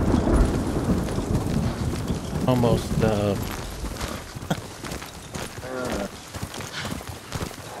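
Horse galloping in Ghost of Tsushima on PS4, rhythmic hoof clatter over rumbling game ambience, with someone talking over it throughout.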